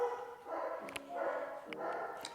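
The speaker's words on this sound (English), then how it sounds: "The barking dogs is just part of the meditation." Several dogs bark in bursts at moderate distance during an outdoor yoga session, the repeated yaps and woofs rising over steady background noise with no speech in between.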